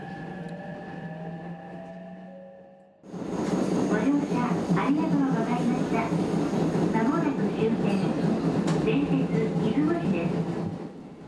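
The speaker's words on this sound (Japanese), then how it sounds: "電車は一路電鉄出雲市駅へ。" An Ichibata Electric Railway 7000 series train runs toward Izumoshi Station, a quiet tonal hum giving way after a few seconds to a loud steady rumble of wheels and motors, with a voice speaking over it.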